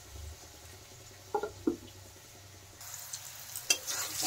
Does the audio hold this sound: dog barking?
no